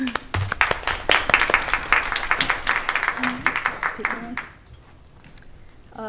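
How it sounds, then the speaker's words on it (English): An audience applauds student speakers at a high school presentation evening, a dense burst of clapping for about four seconds that thins to a few scattered claps. "let's give them a round of applause"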